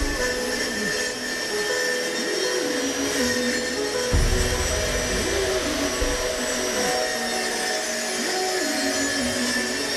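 A power saw cutting wood during a farmhouse renovation, a loud steady whine with repeated rises and falls as the blade bites in, no talking.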